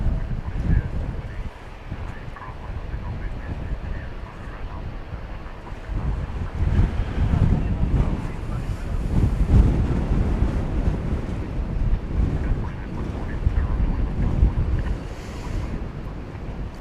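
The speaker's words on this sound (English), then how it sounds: "Is it possible to get winded from being in the wind?" Strong gusts at an airport buffet the microphone with a continuous low roar that swells and ebbs across the whole stretch, with no voices.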